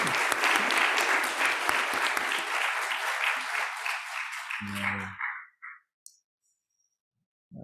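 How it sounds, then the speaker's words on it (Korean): A church congregation at a Korean Easter service applauds in encouragement, dense steady clapping filling the room for about five seconds before fading out, followed by a brief low hum and near silence. "격려의 박수 한번 하겠습니다"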